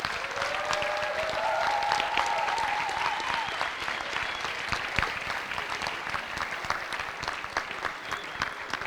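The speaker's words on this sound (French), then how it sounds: "Et on peut les applaudir bien fort." A large audience applauds graduates at a master's degree ceremony, a steady, dense wash of clapping that holds for about nine seconds, with a faint voice briefly audible early on.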